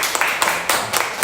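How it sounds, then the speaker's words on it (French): Audience clapping for a student award winner at a primary school end-of-year merit gala, a short burst of scattered, moderately close hand claps with uneven rhythm. "Bravo, on applaudit."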